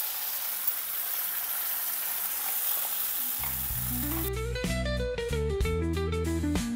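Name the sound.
bottle gourd leaf paste frying in a pan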